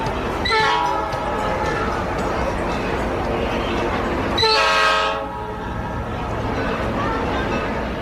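Passenger train horn blasts sound twice, a first blast near the start and a louder one midway, over a steady rumble of rolling railcars.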